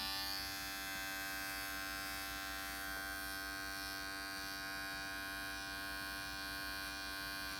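An electric hair clipper buzzes continuously at close range with a steady, even hum while cutting hair for a side part haircut, with no talking.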